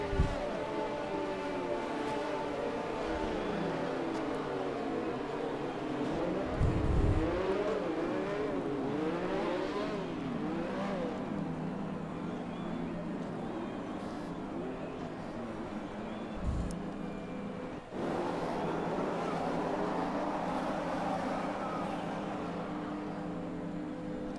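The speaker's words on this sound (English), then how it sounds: "We've already revving up for the start." Race cars in an Xbox racing game idle and rev at the start of the Monaco Grand Prix, a steady mid-volume engine drone with wavering rev swells and a couple of deep thumps, no talk.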